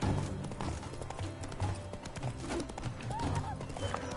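The horse Roach galloping in the video game The Witcher 3, rapid rhythmic hoofbeats thudding steadily over game music and ambience, close and prominent, with a voice speaking briefly over it.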